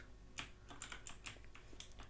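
Keyboard keys pressed while playing Garry's Mod 13, giving a string of quiet, crisp clicks at an irregular typing rhythm with nothing else heard.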